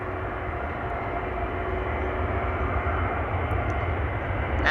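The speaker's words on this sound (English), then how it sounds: "departures taking place from runway 24 with the DHL banana taking off right now" A DHL cargo plane takes off from runway 24 at Amsterdam Schiphol, its jet engines a steady, loud roar that holds throughout and builds slightly toward the end, with no voices.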